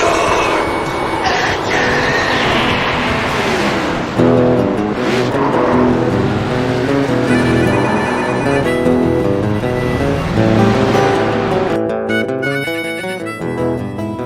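Several NASCAR trucks roar around Lime Rock Park in a racing video game, with loud, steady engine drones and shifting pitch as they accelerate and change gear for the whole stretch.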